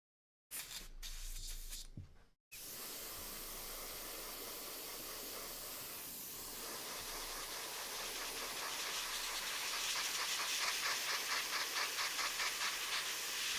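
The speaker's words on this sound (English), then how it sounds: "Let me use an airbrush to try and get this to dry quicker" An airbrush blows a steady stream of air to dry fresh matte varnish on a painted piece, a close, even hiss running for over ten seconds after a short sputtering start, growing slightly louder with a faint pulsing flutter.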